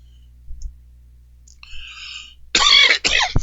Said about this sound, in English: Excuse me, clear my throat.